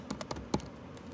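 Keystrokes on a computer keyboard as a project file name is typed, about six quick close taps in an uneven rhythm with one louder press, no voices.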